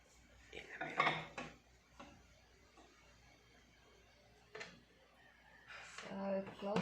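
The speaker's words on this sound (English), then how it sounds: "Now I will put it in the microwave." A covered dish of pansit bihon slid into a microwave, with clattering dish and door clicks and bumps in short bursts between quieter gaps.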